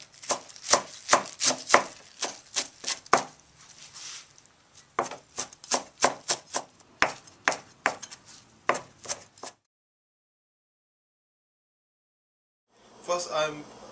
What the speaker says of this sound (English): right now I'm chopping a spinach.